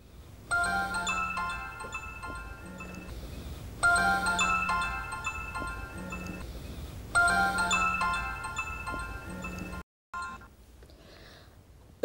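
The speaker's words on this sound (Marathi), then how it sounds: "तुम्ही फोन का नाही घेत?" A telephone ringtone plays loudly and close in three repeated melodic bursts with short pauses between, then cuts off abruptly near the end, leaving a quiet room with no talking.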